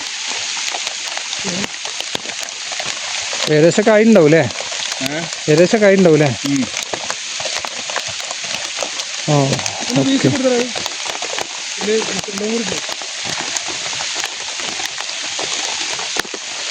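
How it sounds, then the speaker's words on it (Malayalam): Rain hisses steadily over a forest camp while chicken grills over an open fire, a dense continuous patter with crackle, as people talk intermittently over it. "മഴയത്ത് ചിക്കൻ ചുട്ടോണ്ടിരിക്കുക"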